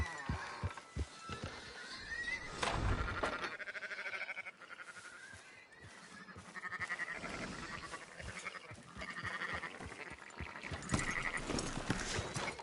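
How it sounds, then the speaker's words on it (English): Sheep in Red Dead Redemption 2 bleat repeatedly in overlapping calls, fairly close and clear, with a soft game ambience underneath and no talk. "Fine sheep."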